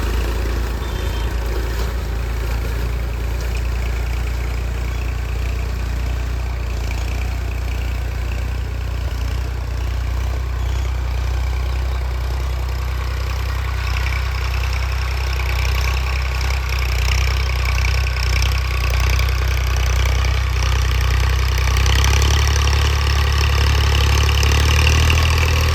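A Massey tractor fitted with a Simpson engine runs steadily and close by, a constant low diesel rumble with idling throb that holds for the whole stretch, no voices over it.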